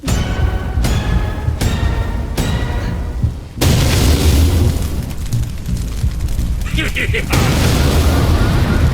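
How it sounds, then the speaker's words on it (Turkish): A car explodes in a series of heavy booming bursts, loud and close, with a sustained roaring blast partway through and crackling debris noise between impacts. "Patladı araba."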